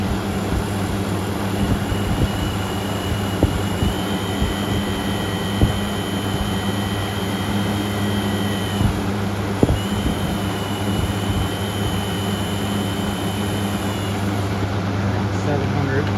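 A 1998 Lakewood Box Fan, model 227, runs steadily with a low, even motor hum and a constant airy whoosh from the blades, with a faint tonal whine and a couple of small knocks.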